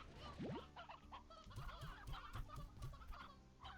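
Chickens in the video game Slime Rancher clucking repeatedly in a short rhythmic series of throaty clucks, close and fairly clear, with no talking.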